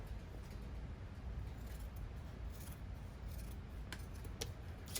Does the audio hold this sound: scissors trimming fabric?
yes